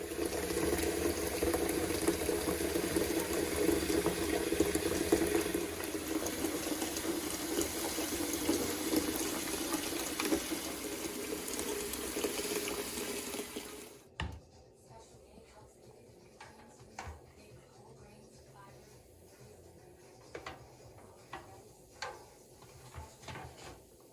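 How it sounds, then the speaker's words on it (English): Hot soapy water runs and splashes steadily while RC car cage parts are washed in a sink, then the flow stops abruptly and faint clinks and handling noises follow. "Wash it with some hot soapy water."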